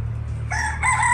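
A rooster crows in a short rising call on a rural homestead in Hatay, Turkey, near and loud over a steady low hum, with no talking.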